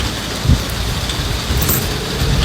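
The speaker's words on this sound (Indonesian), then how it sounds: "Oh, Amerika hujan guys." Steady outdoor rain hisses continuously across the whole stretch, a dense broadband wash with a brief louder gust or splash near the start.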